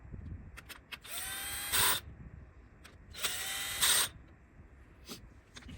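Power tool tightening the plastic valve cover bolts on a 2010-11 Toyota Camry, two short whirring runs, each rising in pitch and then ending in a brief louder burst, with light clicks around them.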